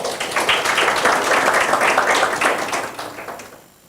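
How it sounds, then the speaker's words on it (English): A conference audience gives a steady round of applause that lasts several seconds of dense clapping at moderate distance, then fades out near the end. "let's give her another round of applause."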